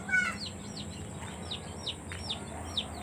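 Chickens in a backyard coop cluck and chirp in short, scattered calls over a steady low background hum, fairly close and moderately loud.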